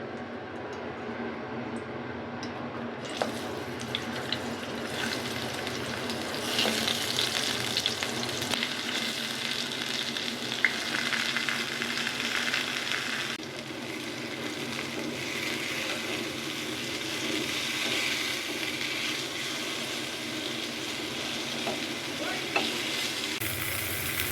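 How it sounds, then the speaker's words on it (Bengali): Turmeric- and salt-coated eggplant frying in hot mustard oil in a pan, a continuous loud sizzle with crackling bursts and occasional stirring, no voices. "সরিষার তেলেই ভাজা করব বেগুন"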